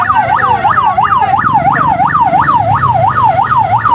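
An ambulance siren wails past a road-repair protest on a damaged provincial road in Simalungun, its loud, rapid rising-and-falling cycles repeating steadily over a low traffic rumble.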